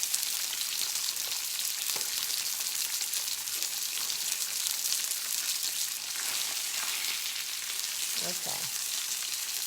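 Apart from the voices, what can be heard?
oil splattering while frying salmon in pan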